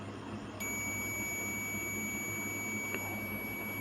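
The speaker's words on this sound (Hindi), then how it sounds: "बीप का भी साउंड आ रहा है" A digital multimeter emits a steady high electronic beep while probing an SMD resistor on a circuit board; the tone starts abruptly and holds continuously over low background hum.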